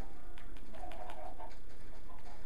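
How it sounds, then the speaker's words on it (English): Chickens on a video game farm give soft, repeated clucks and burbling calls that are close but not loud, set against a constant background hum. "Man, stupid chickens."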